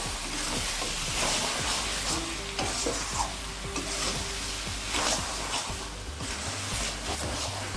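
A spoon stirs fish-head cabbage ghonto with garam masala in a sizzling pan, steady frying hiss under repeated scraping strokes, close and continuous.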